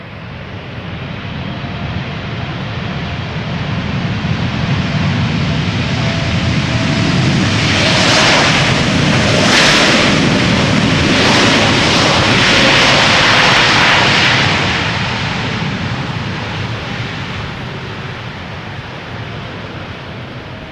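A KLM airliner, registration PH-BQN, first flown in 2006, approaches to land at Schiphol's Polderbaan runway in sunny weather. Its broad jet roar swells as it passes close overhead around the middle, then fades steadily.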